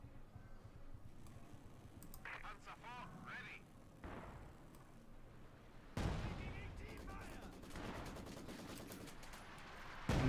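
Maxim machine gun fire in the Company of Heroes 2 strategy game, amid a busy mix of battlefield gunfire and explosions that runs throughout and grows louder toward the end, with faint voices underneath.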